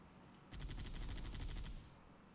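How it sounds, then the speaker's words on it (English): Rapid automatic gunfire in Halo with the Silent Cartographer mod, fired at a dead Elite: one continuous burst of about a second of quick regular shots, fairly distant and muffled, with no talk. "Shooting that dead elite just to make sure he's dead, I guess."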